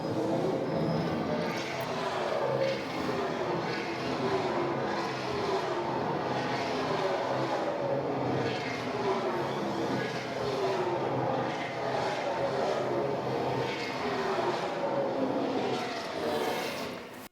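A race car pulls away from a pit stop after refuelling and a four-tyre change, a steady, loud broadband engine roar holding for the whole stretch.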